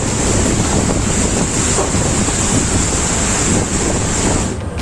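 Stormy sea waves churn around a tug boat, heard as a steady, loud roar of water and wind buffeting the microphone that continues without a break.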